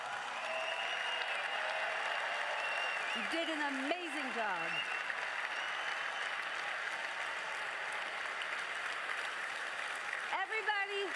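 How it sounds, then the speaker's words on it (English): Large crowd at the Invictus Games 2023 closing ceremony applauding in a sustained roar of clapping and cheering, while an announcer speaks over the amplified sound system. "Please give yourselves a round of applause."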